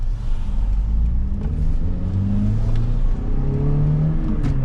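A Toyota Matrix XRS car engine revs loudly and close, its pitch climbing and dropping in repeated swells with no talking.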